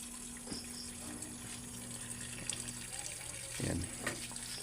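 A Sharp automatic washing machine fills with water at a strong flow, a steady rushing hiss with a faint pump hum beneath and a couple of brief clunks.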